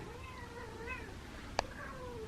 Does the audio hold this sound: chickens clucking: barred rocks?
no